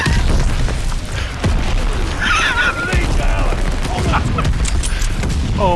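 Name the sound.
gunfire in the video game Call of Duty Vanguard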